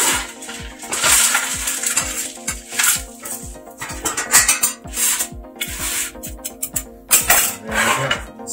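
Golden-brown granola baked at 350 degrees being scraped and shifted out of a metal pan, a steady stream of gritty rustling and rattling clinks with bursts of louder scraping, close up and continuous, with no talking.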